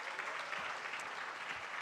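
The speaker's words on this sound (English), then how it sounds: "Let's give them a round of applause" Audience applause at a memorial lecture, a steady, dense wash of many hands clapping throughout, moderately loud with no break.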